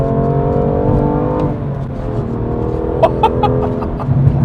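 A BMW M2 Competition engine accelerates under throttle from inside the car, with a loud rising engine note that holds steady and ends in a few sharp pops or shift blips near the end.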